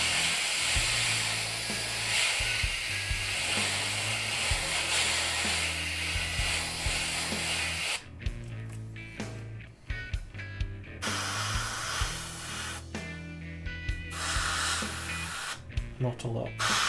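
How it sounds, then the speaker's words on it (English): An airbrush sprays a fine layer of black paint onto a miniature model vehicle, a steady hiss that cuts off and restarts in short bursts in the second half. "spray some very fine layer of black just towards the top area"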